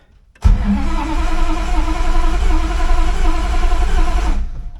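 A Plymouth Valiant A-body car with an electric choke, unused for about two weeks, cranks and catches, its engine bursting into a loud, steady run close by that holds through to the end with no talk.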